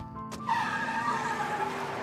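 A cartoon car in The Simpsons peels away with a screech of tires and a rising engine whine, loud and close over a tonal backdrop, lasting about two seconds.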